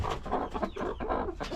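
A farm hen clucks in short, close bursts with some faint background noise and no talk; the picture cannot confirm whether it is clucking or other hen calls.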